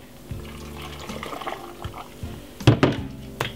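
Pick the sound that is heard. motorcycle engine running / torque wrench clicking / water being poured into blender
water being poured into blender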